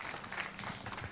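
A church congregation at a Sunday worship service applauds together, a brief, steady wash of mid-volume clapping filling the room with no voices standing out.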